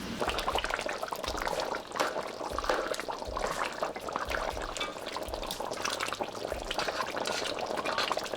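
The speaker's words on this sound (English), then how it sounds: "I'm going to let it simmer for another 15 minutes." Oxtail rundown simmers in a pot, a steady close bubbling and crackling hiss that holds evenly throughout with no talk.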